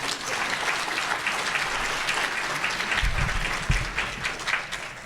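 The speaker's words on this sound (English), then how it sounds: "Can we give her a round of applause?" An audience at a civic welcome event for the Crystal City Pilgrimage breaks into sustained applause, a dense, even wash of clapping from a crowd that holds steady throughout, with a few louder thumps near the end.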